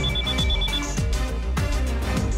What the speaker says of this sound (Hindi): राजू फोन उठा।